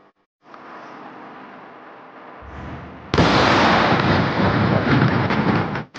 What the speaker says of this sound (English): Just a very quick video clip of a number of the airstrikes since Monday